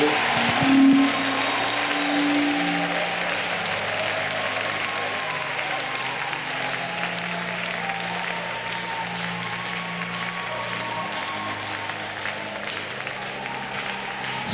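A church congregation claps along during lively worship music, a steady mass of handclaps spread across the room that carries on for the whole stretch under sustained tones.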